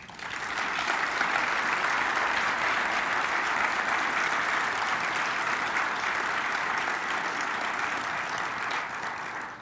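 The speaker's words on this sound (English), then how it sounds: "I think they deserve extra applause." Sustained audience applause at a city's State of the City address in Franklin, Tennessee, steady and dense clapping from a large crowd that holds at full strength for nearly ten seconds before easing slightly at the end.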